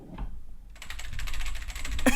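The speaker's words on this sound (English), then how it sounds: "All the clinking and clacking, keyboards that sound like this." Computer keyboard typed on right next to the microphone, a quiet moment followed by a dense, fast stream of clicky keystrokes ending in a louder clack.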